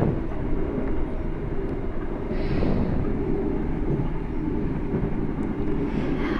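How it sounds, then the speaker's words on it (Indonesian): Inside a moving train, a loud, steady low rumble and roar of the carriage runs without a break, with no voices. "Aku lagi di kereta ya ini."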